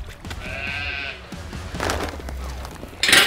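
One sheep on a farm gives a clear, wavering bleat early on, followed by a few muffled knocks and rustles, then a short loud burst of noise at the end.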